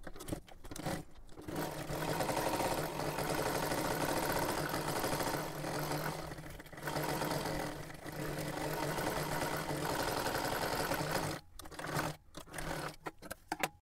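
A sewing machine stitching a salwar runs in long continuous bursts of close, rapid mechanical chatter, pausing briefly a few times with short stops near the end.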